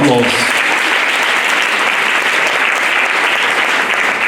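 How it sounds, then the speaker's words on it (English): Loud, dense applause from a large audience honoring two kings at a South African government disability event, steady and continuous throughout after a brief opening voice. "can we give them a nice round of applause?"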